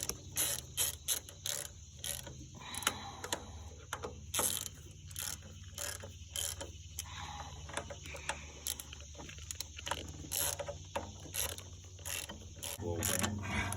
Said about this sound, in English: tighten your balancer up evenly, the bolts, and that'll push the sleeve on